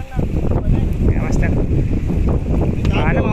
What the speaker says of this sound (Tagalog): Pag kuhan talaga, malakas ng hangin talaga.